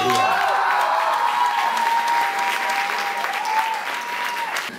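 Sustained audience applause at a rock awards ceremony, loud and continuous, with a few tonal voice-like sounds and a faint sustained tone running beneath the clapping.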